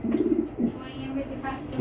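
Racing pigeons held by hand coo close by in low, throaty bursts, with people talking over and between the calls.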